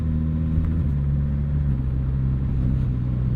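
A Suzuki GSX S1000 GT motorcycle pulls away in sixth gear at about 30 mph, a steady low engine rumble that shifts slightly in pitch as it gathers speed, heard close and loud alongside road noise.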